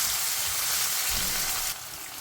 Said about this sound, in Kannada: ಟೊಮೆಟೊ ಹಾಕ್ಬಿಟ್ಟು ಸ್ವಲ್ಪ ಫ್ರೈ ಮಾಡ್ಕೊಳ್ಳೋಣ